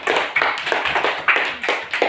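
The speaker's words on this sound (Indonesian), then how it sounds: "tepuk tangan yang meriah untuk kelompok 1" Classroom applause for the first student group after their presentation, a lively round of hand clapping with rhythmic bursts and pulses, fairly close and loud, without talk.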